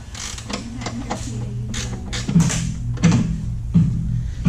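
A 14 mm ratchet loosens a bolt on a 2017 Corolla during a lowering-spring install, with repeated bursts of ratcheting clicks over a continuous low mechanical hum, close and fairly loud.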